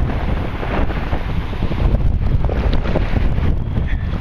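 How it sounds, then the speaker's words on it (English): Wind blows across a bay, roaring steadily into the microphone with gusty swells and a low rumble throughout, loud and close. "It's breezing up."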